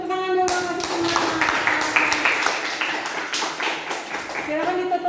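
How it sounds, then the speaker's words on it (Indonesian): A school class claps for a group after its chemistry presentation, a burst of close hand clapping from several students lasting a few seconds, with a voice speaking at the start and end. "Kita kasih tepuk tangan dulu, kasih semangat."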